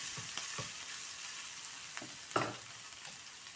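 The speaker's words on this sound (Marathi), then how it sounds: "हे 2 मिनिटं कांदा लसूण मिरची छान असं मीडियम गॅसवरती मी परतून घेतलेलं आहे." Onion, garlic and chilli fry over a medium gas flame in a steady, close sizzle, with a few spoon stirs and scrapes breaking through and no talk.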